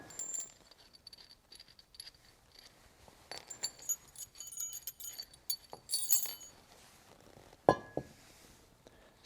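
Big metal bolts for a weight distribution hitch clink and jangle faintly at close range, with scattered light metallic taps and one sharper clink near the end.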